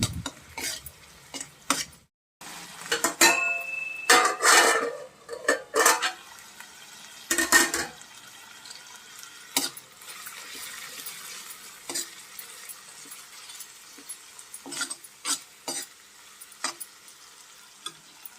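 A spoon scrapes and clinks repeatedly through potato curry with turmeric and chilli in a frying pan, the stirring strokes coming in irregular bursts over a soft sizzle, with no voices.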